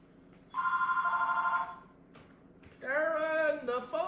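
A telephone bell rings in a steady electric trill for about a second, pauses, then rings again. A voice follows that may be imitating or answering it, and the rings are close and clear over a quiet room.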